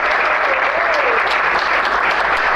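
A studio audience on a television set applauds in a continuous, loud burst of clapping that stays even from start to finish.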